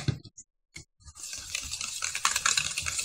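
A whisk stirs egg yolk into a warm cream cheese mixture for a Japanese cheesecake, starting with a few sparse clicks and then turning into quick, steady, wet scraping close by.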